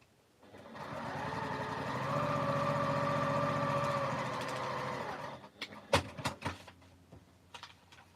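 A sewing machine running steadily for about four seconds as it stitches a quilted cushion seam down the side, a close, even mechanical whirr that stops and gives way to a few light clicks and handling taps.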